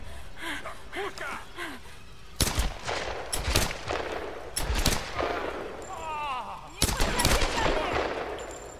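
Bursts of automatic gunfire crack out in the 2013 Tomb Raider video game, loud and repeated shots with shouting voices and gasps between volleys.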